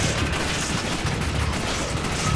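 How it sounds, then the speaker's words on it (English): Dense, continuous gunfire from enemy machine guns in Resident Evil 5, loud and unbroken throughout, a heavy roaring wall of rapid shots with no pauses. "Those guys have machine guns."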